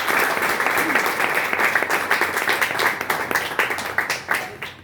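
A church congregation applauds during a reading at a life seminar, with steady, dense clapping from many hands filling the room, sustained at moderate loudness and thinning out near the end.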